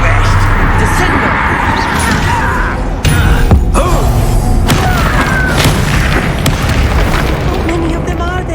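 A Bombarda blasting spell from the Hogwarts Legacy video game sets off a loud booming explosion near the middle, with dense rumbling impacts and crackling debris continuing around it amid game noise and voices.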